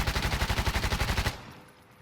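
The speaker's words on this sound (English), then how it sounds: "this is a recoil control test with a foregrip on a Tavor 7, full auto" Tavor 7 rifle with a foregrip firing a full-auto burst of about a dozen evenly spaced loud, close shots lasting over a second, then cutting off into a quiet tail.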